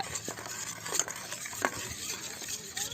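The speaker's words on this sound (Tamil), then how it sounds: "இப்போ நம்ம வந்து தண்ணி சேர்த்து நல்லா கரைச்சி விட்டுக்கலாம்" A spoon stirs gelatin into water, clinking lightly in a small container, soft scraping and tapping at irregular moments, close and quiet.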